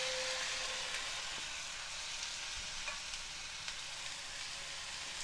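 Boiled, drained cauliflower frying in a pan with a tempering of fried seasonings while being stirred, a soft, steady sizzle with faint scraping, quiet and continuous with no talk.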